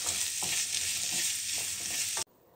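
Onions stir-fry in a pan for a Bangladeshi bharta, a dense continuous sizzle with scraping stir strokes cutting through, close and loud, ending abruptly near the close.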